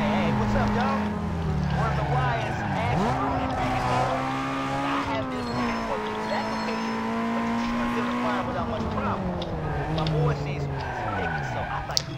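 Honda Civic engine in the racing game Need for Speed Underground 2, revving steadily with rising and dropping pitch as gears change, loud and continuous under a talking voice.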